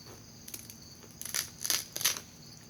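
Wet kindling and small tinder crackle slowly as a campfire struggles to catch, giving a few faint, sparse snaps and pops close by with quiet gaps between them.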